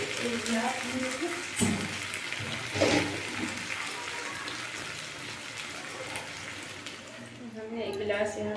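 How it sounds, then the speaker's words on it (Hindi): A glass of water is poured into a pan of drumstick (moringa) curry, a steady splashing, sizzling wash with faint bumps from the pan. "अब हम इसमें ऐड करेंगे पानी"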